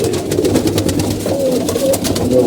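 Pigeons coo continuously at close range, their soft throaty calls overlapping in a steady, fairly loud murmur.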